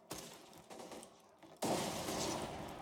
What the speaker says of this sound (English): Pulling the pin. Throwing grenade.